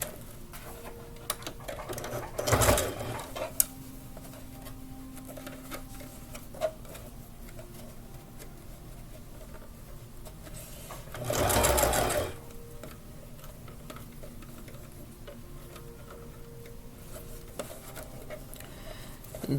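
A sewing machine stitches carefully around a tricky section of a sleeveless dress being converted into a racerback, with a needle that could break. Two short loud bursts of running stitching stand out over quiet ticking and rustling, with no talk.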